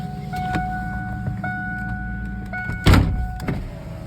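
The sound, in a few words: Ford Mustang power window moving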